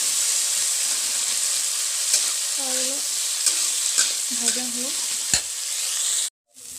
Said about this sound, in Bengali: করলাগুলো ভাজা হচ্ছে।